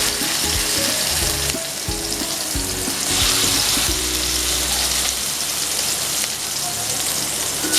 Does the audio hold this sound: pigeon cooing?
no